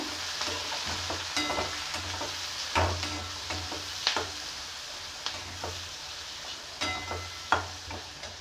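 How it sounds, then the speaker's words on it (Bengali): A fish curry is stirred in a pan over steady frying sizzle, with repeated scraping clinks of the spoon against the pan at an irregular rhythm, close and moderately loud. "এবার আমি এটাকে ভালো করে নাড়াচাড়া করে ঢাকা দিয়ে দেব।"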